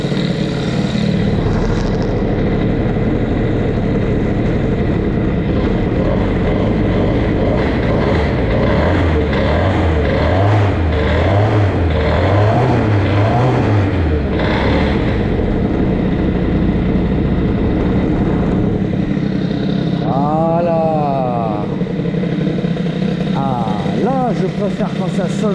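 A Fox Origine moped engine fitted with a boosted cylinder head idles and revs on the street, its buzzing two-stroke note rising and falling repeatedly, loud and close throughout.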